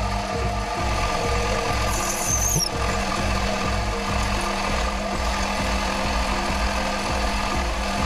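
A drill bit runs into a metal screw part spinning on a lathe, giving a steady mechanical whir with rhythmic machine pulsing and a brief high squeal near the start, loud and close.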